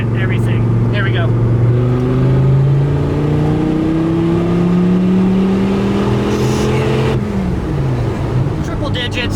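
An 800whp Dodge Viper with a six-speed gearbox accelerates hard in third gear, its close, loud engine note climbing steadily in pitch for several seconds before easing off, with a driver talking over it.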